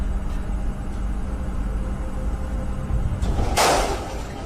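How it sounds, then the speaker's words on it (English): Cupboard doors burst forcefully open in a quiet room, a short loud bang-and-rattle rising out of a steady low hum near the end. "As the cupboard doors beside him burst aggressively open"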